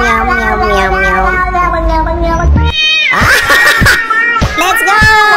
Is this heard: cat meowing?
yes